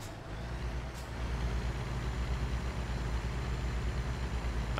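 Truck engine rumbling steadily while driving along a road in American Truck Simulator, a low continuous drone with a brief hiss near the start and no talk.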